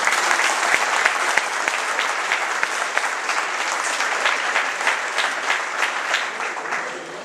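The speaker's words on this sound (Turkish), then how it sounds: "Onlarla alkışlıyoruz" A school audience applauds three students, dense continuous clapping at fairly close range that holds steady throughout and tapers slightly at the end, with no talk over it.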